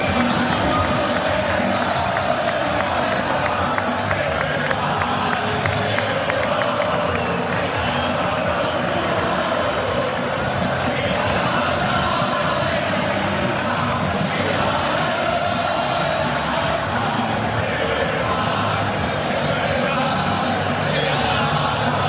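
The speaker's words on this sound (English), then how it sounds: "Have a little watch and a listen to this crowd responding to that Argentina team on the pitch." A large football stadium crowd roars and cheers continuously for the Argentina team, a dense, loud wall of voices with whoops and shouts sustained throughout.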